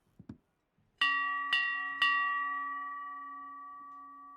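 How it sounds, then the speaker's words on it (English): A video game shop bell is struck three times in quick succession, each clear metallic ding ringing out and fading slowly in an otherwise quiet space, after a few soft sounds. "I'm going to have to ring the bell for you again"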